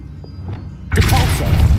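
A magic spell bursts out in a video game, a sudden loud whooshing shimmer that starts abruptly after a quiet stretch of faint low rumble and holds steady to the end.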